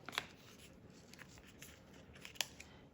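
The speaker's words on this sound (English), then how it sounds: "it's time to sharpen the kitchen scissors now, isn't it?" Kitchen scissors snip through a paper coffee filter in a few quiet, crisp cuts, separated by soft rustling of the paper.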